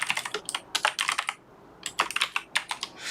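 Fast typing on a computer keyboard, clicking in two bursts separated by a short pause, close and clear with no talking.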